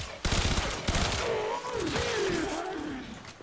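A full magazine from the Zhuge Prime in the Warframe video game, fired as a rapid stream of close, dense shots that blur into a continuous roar, with a voice talking over the firing.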